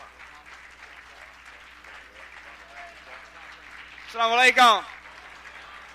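A warm round of applause greets a minister arriving to speak at a community gathering, steady clapping running through the clip with a voice breaking in near the end.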